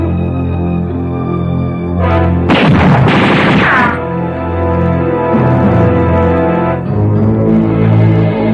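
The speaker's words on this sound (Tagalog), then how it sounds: "May narinig kong putok." A gunshot in a Filipino action drama: one sharp, loud burst over a steady musical score, which carries on underneath before and after the blast.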